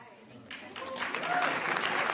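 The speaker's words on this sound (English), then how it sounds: "You gonna hear them clapping?" Audience applause at a White House summit on human trafficking, clapping swelling from a quiet start into a steady, dense wash of many hands, with faint voices underneath.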